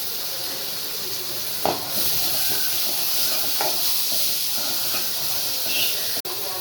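Sliced onions and curry leaves dropped into hot oil in a pan, giving a steady close hiss and sizzle throughout, with a couple of faint clinks.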